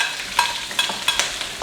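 Onion joins garlic frying in a pan, making a brief close sizzle broken by a few sharp stirring clacks, with no talk.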